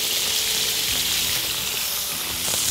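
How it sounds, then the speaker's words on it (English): Mackerel fillets sizzle skin-down on a hot plancha with oil and spices, a steady, dense frying hiss close up with no talking. "I'm cooking that mackerel with the skin down first"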